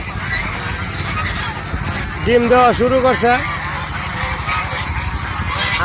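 Domestic geese honk a few times in a short, close burst midway, rising over someone talking steadily throughout.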